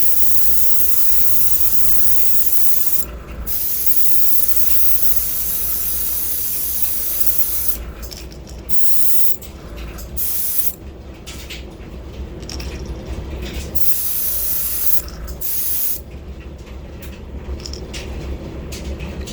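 Transparent sand paint sprays in a continuous, loud airbrush hiss while coloring a fishing crawfish lure, with brief dips and small metallic clicks as the trigger shifts.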